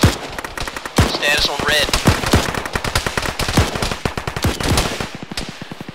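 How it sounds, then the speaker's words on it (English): Rapid bursts of video-game gunfire from Arma 3, a tactical military shooter, crackle continuously with dense overlapping shots near and far, while a radio-style voice speaks briefly over the firefight. "2, you're being shot at from the northeast"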